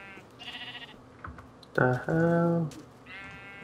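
Minecraft sheep bleating in the video game, a couple of short wavering bleats, one near the start and a louder drawn-out one midway, mixed with a voice and keyboard tapping.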